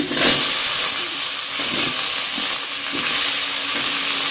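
Potatoes tumbling into hot oil in a kadai for masala dosa filling, after curry leaves, give a steady loud sizzle and frying hiss throughout, with a few soft scrapes of stirring and no talk.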